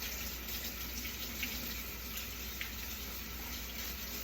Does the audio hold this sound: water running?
yes